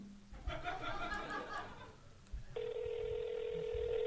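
A telephone being dialed to place a call, with a quick series of tones, then a steady ring tone holding to the end. Light laughter and murmuring voices sit under it in a quiet room.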